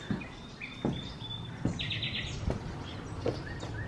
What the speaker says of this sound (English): Oh, do you hear the birds?